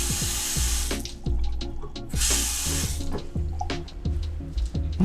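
Excess water pours out of a freshly watered houseplant pot into a sink, a steady splashing flow with gurgles and drips, fairly close and alone.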